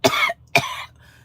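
Man coughing in a grocery store produce section, imitated by a voice: two sharp, harsh coughs in quick succession, the second trailing off, close and fairly loud.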